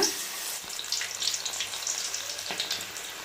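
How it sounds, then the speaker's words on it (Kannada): Chili fritters for mirchi bajji dropped into hot oil, frying with a steady bright sizzle and bubbling hiss throughout, a couple of louder crackling bursts near the start and again later, no voices. "ಈ ರೀತಿ ಡಿಪ್ ಮಾಡಿದಾದ್ಮೇಲೆ ಇವಾಗ ಕಾದಿರೋಂಥ ಎಣ್ಣೆಗೆ ಬಜ್ಜಿ ಹಾಕ್ಕೊಳ್ಳೋಣ."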